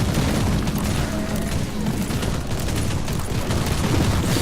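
Tarantula gun turrets firing in the game Warhammer 40,000: Inquisitor - Martyr, a dense, continuous roar of rapid gunfire and booms, loud and close throughout with no pause.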